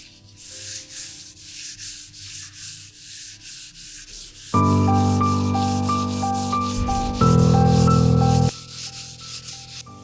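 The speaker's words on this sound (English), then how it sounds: "I sand the surface of the table with 400 grade sandpaper." A wooden dining table top is sanded by hand with 400 grade sandpaper, steady close rubbing strokes that repeat rhythmically and sit alone without any talk.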